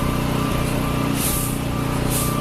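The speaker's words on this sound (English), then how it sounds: "Backing the truck out." A truck backs out at a subway ventilator and grating repair site, its engine rumbling steadily and loudly with hissing bursts of air and high whine layered over constant nearby work noise.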